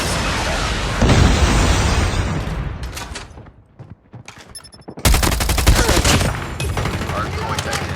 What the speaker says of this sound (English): Predator missile inbound.